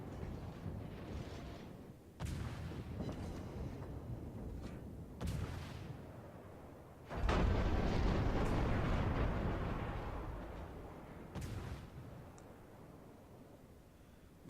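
Heavy naval guns of the Hsienyang in World of Warships fire in separate salvos, each a loud booming blast followed by rumbling decay, the largest volley around the middle with a long roaring tail.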